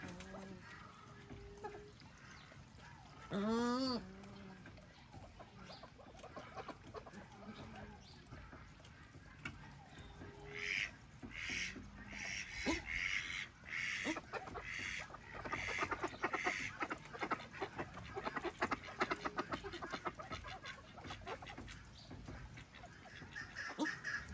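Shelducks honking and calling outdoors, a drake and female squabbling; a short rising call stands out early, followed by a run of scattered, irregular calls that grow busier toward the end over steady background noise.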